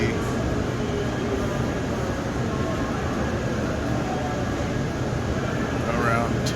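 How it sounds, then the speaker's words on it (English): A steady, loud rushing rumble of a Shinkansen bullet train passing nearby in Japan, a continuous roar with a faint high tone near the end. "it's a little loud, but there's the Shinkansen"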